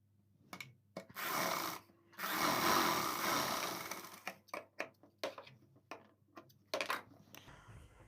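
A sewing machine runs in long continuous bursts while stitching the side seam of a salwar suit, with a short run, a longer steady run, then brief stop-start bursts as the fabric is repositioned; the machine is fairly close and moderately loud.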